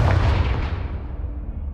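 The Confringo fire spell in Hogwarts Legacy bursts as a heavy booming explosion, loud and close, its rumble decaying over a second or so with no voices over it.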